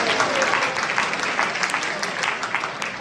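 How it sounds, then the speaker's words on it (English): An audience at a talk on astrology and matchmaking claps together in a steady burst of applause that holds at moderate loudness throughout, with no speech over it. "Give a big clap."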